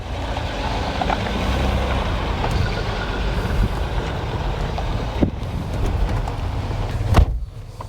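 Old Range Rover with a hole in the engine pulling away on its first drive, a low rumbling engine and road noise held steady, with a couple of sharp knocks near the end.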